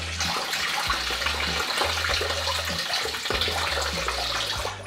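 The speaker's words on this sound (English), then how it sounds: "Either you get all the water or you don't get any water in the bucket." Water pouring steadily from a Volvo 740 hose into a bucket, a continuous close splashing rush with a low rumbling undertone throughout.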